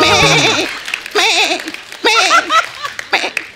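A person mimics a goat's bleat, several wavering, quavering cries in a row, loud and close, with a short burst of laughter at the start.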